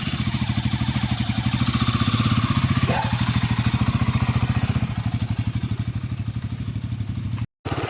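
A Royal Enfield Himalayan motorcycle engine idles and revs close by with a steady, rapid single-cylinder thump that holds for several seconds before a brief dropout, ahead of an off-road ride through jungle in Kutch.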